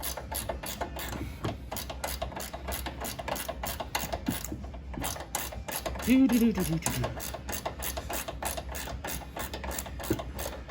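A Craftsman ratcheting wrench backing out a 16 millimeter bolt during a body lift on a 2021 Jeep Wrangler JL, a rapid, even series of sharp clicks close up, with a voice briefly over it.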